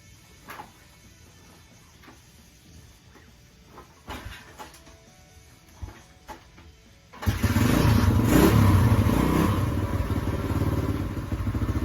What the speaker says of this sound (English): There's the old Honda 175 that's running real nice. I mean, I could just fire that one up for you quick